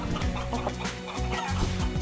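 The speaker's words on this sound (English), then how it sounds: "I can turn into a chicken" A video game chicken clucks in a quick run of short, choppy calls, close and fairly loud, with game sounds under it and no talk.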